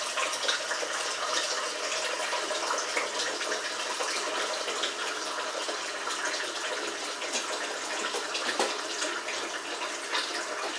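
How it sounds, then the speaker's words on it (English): Steady, broadband rushing of water pouring from a tap, continuous and fairly close, with no voices over it. "Let the water run for a while."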